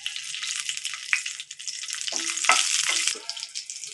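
Black cumin and slit green chillies hit hot oil with a bright, crackling sizzle, with sharp pops and a few spits over a few seconds, close and fairly loud.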